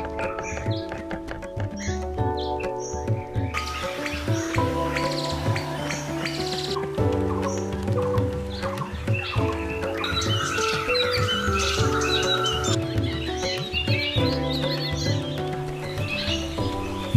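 Assorted forest birds chirping and calling over a dense, steady backdrop, with overlapping tweets and repeated song phrases sounding throughout, layered with musical tones.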